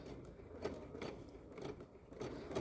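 Sewing machine stitching piping onto fabric with a piping foot, a faint, close mechanical whirr with rhythmic clicking pulses over a few seconds.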